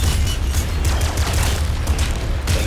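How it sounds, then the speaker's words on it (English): Bazooka explosions in the Nuclear Throne video game: a rapid, dense barrage of loud booms and blasts, one after another with no pause, close and punchy. "use bazooka at all costs"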